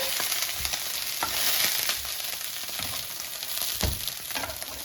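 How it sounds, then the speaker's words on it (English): Italian sausages sizzling in a hot pan on medium-high heat, a constant bright crackle up close with scattered pops and spatters throughout. "as you can hear, the pan is heated. You can hear the sizzling sound."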